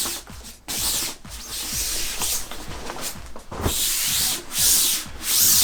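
A PVC infrared sauna blanket is peeled open, giving close, rough rustling and rubbing noises in uneven bursts with short pauses between them.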